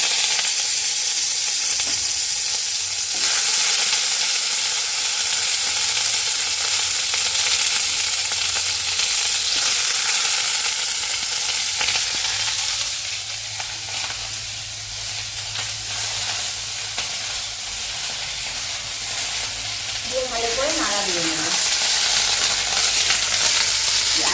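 Potatoes and vegetables frying in hot oil with green chilli, a loud continuous sizzle and hiss that swells and settles as the pieces cook, with occasional scraping and stirring and no talking.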